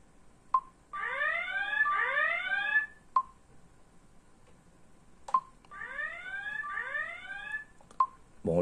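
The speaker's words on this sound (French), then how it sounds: "Et là, on entend l'alarme qui a l'air sympa." A prototype X-Sense security kit alarm set to 80% volume plays two rounds of rapid rising electronic warble sweeps, each framed by sharp single beeps, clear and fairly close in a quiet room.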